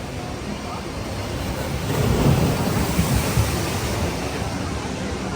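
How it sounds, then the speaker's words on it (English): Dudley Do-Right's Ripsaw Falls water ride at Universal Islands of Adventure, on a rainy day, sends up a big splash midway through a steady outdoor roar of rushing water and rain, the surge swelling then easing off. "Quite the splash"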